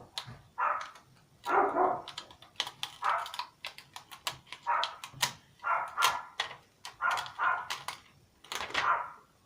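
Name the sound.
dogs barking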